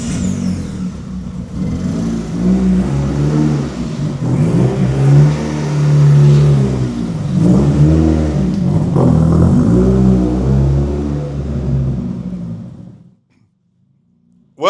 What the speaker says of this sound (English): Our Repco little Datsun 1200 Ute is finished. It's on the road, it's driving under its own steam, and Ryan is around the block already.